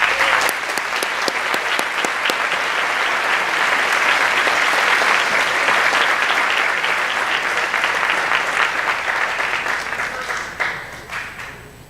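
Sustained, dense applause from a school awards day audience fills the room for about ten seconds, then thins and tapers off into scattered claps at the end.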